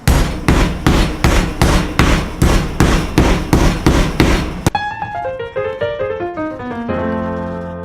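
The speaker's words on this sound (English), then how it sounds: "Now I got me a hammer here. We're going to pound these out to about 1/4 inch thickness" A hammer pounds pork cutlets flat under plastic in a fast, even series of loud, heavy thuds. The pounding stops partway, and a run of ringing, descending tones follows.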